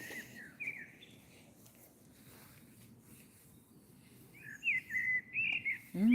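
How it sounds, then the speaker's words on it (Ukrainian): A small bird sings high, chirping phrases outdoors in Zhytomyr, Ukraine, faint at first then clearer and closer, over a low background rumble. "Якась пташка виспівує. Чути тобі пташку?"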